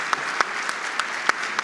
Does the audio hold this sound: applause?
yes